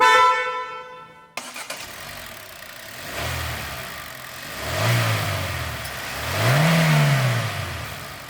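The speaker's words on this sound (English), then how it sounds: "this is what horn sounds like" A single sustained car horn blast from a 2021 Hyundai Elantra that cuts off abruptly, followed by its 1.6-liter MPI petrol engine revving up and down a few times.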